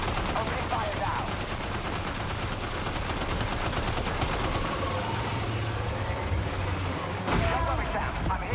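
Rapid gunfire in the video game Death Stranding 2 rattles steadily over a dense, continuous wash of game noise with a low engine-like drone, while a voice speaks intermittently.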